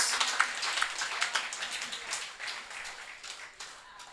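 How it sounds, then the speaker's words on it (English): An audience at a Women's Forum celebrating forty years of the NNP applauds, with dense sustained clapping from many hands, loud at first and gradually fading over several seconds. "Let us give the NNP a big round of applause."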